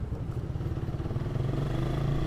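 Close, steady rumble of a 2014 Suzuki Satria FU 150 cc carburetor motorcycle engine running, with a rhythmic pulsing low throb and light mechanical clatter, fairly quiet and without talk.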